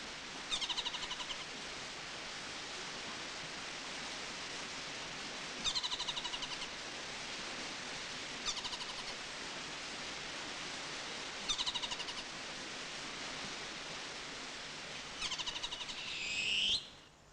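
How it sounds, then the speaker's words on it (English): Several short, high parakeet feeding calls from a parent bird repeat at intervals over a constant hiss of background noise, each burst brief and fairly faint, on Hauturu Little Barrier Island. "Listen to the feeding call of the parent bird."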